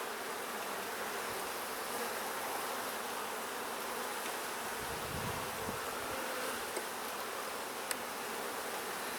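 Honey bees drone steadily throughout a queenless hive during a gentle inspection, a dense, even buzz close to the microphone with no talk over it.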